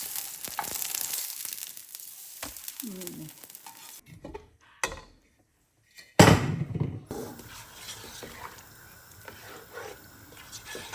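Egg frying half-done in a pan at home for a pre-dawn Ramadan meal, a steady crackling sizzle with stirring and clatter, interrupted by a brief near-silent gap before the frying hiss resumes loudly.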